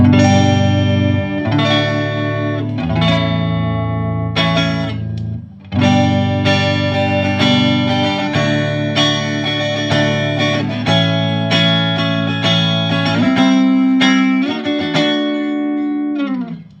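Electric guitar played through a NUX C-5RC wireless system with effects, a run of strummed chords and ringing sustained notes with reverb and chorus, loud and close with a brief pause midway, no talking.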